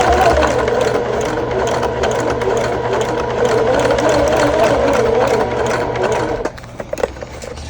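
A sewing machine hums and clatters continuously, running slowly while top-stitching down a bag seam, loud and close, before stopping near the end with a few light handling sounds.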